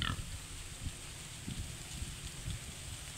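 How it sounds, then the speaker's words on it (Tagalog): A pig grunts on a farm hacienda, low soft snorts and grunts in an irregular rhythm at moderate distance under a steady rain-like background hiss, with no talk. "Baboy."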